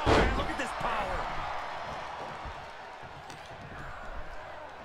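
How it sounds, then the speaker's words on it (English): A crowd roars in a Royal Rumble wrestling video game, a loud, steady wash of arena cheering that starts with a sharp impact and then holds at a fairly even level. "Listen to this crowd."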